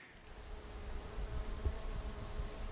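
A wild bee buzzes around flowering ground-cover plants in a forest garden, a faint, steady hum that swells slightly and wavers as it moves close to the microphone.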